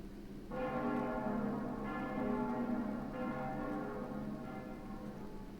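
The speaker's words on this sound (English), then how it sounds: "I heard the bell ring all the way across town too" A bell rings out across town, struck roughly every 1.3 seconds. Each strike leaves a resonant, overlapping hum that lingers steadily at moderate volume, with no voices present.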